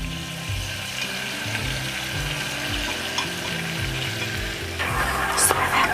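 Chicken wings sizzle steadily in a pan with fish sauce, a close, continuous crackle that swells a little louder near the end, with no talking.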